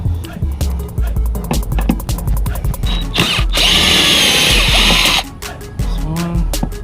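Power drill running in a long continuous burst on bolts at a car's fuel door during a custom fuel door install, loud and close, with shorter tool noises before and after.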